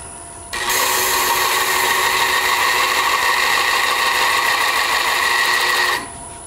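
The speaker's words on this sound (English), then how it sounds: "And this is just a little burr for the Dremel." A Dremel rotary tool fitted with a small burr texturing a turned wooden urn gives a high, steady whine that starts sharply, holds for about five seconds and then cuts off, close and loud with no speech.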